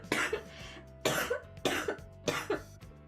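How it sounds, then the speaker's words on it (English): A person coughs repeatedly in a loose, heavy, wheezy way, four close bursts over a few seconds, each with a rattling tail, with no talking in between. "Sorry, I'm gonna have to do a really big cough, I think."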